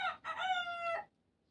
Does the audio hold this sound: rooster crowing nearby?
yes